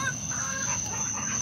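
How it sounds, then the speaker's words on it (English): Chickens clucking steadily inside a chicken house, a continuous close chorus of fowl calls with no talking. "Come on, let's go in the chicken house."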